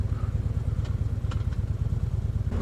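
Motorcycle engine running with a steady low pulsing throb while the rider works the clutch and brake, a few faint clicks and clatters over the continuous mid-pitched drone.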